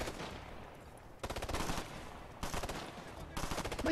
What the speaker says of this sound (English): Am I doing anything here but shooting at bricks?